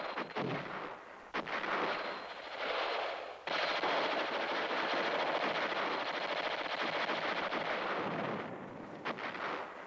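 Heavy weapons fire during USAF security police weapons training, loud sustained bursts of automatic and artillery-like fire with brief pauses, then a long unbroken stretch of roaring blasts.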